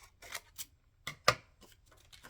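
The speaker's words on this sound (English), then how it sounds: "I think I'm going to cut it there." Scissors snipping paper for a collage, a few short crisp cuts with one sharper snip near the middle, close and fairly quiet with pauses between.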